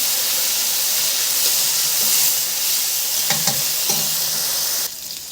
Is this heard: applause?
no